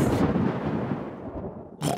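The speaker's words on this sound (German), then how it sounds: "Das Gewitter verzieht sich schon." Thunder from a thunderstorm in the cartoon Peppa Pig, a deep rolling rumble that slowly dies away, followed by a brief new loud burst at the end.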